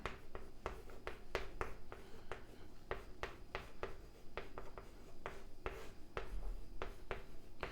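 Chalk or marker tapping and scraping on a board during a mathematics lecture on exponential asymptotics, a steady run of short, crisp strokes and taps at close range with no talking.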